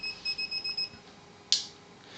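Rapid high-pitched electronic beeping from an anti-escape dog fence collar, about six quick pulses that stop abruptly, followed by a brief sharp click-like burst and quiet.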